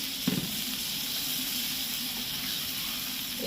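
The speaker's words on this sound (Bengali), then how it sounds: "এবার মাঝখানে একটুখানি জল দেবো, শুধু আলুটা একটু সেদ্ধ হওয়ার জন্য" Water poured into a hot pan of hilsa oil with potato and eggplant sets off a steady, close sizzling hiss that starts with a short splash and then holds evenly throughout.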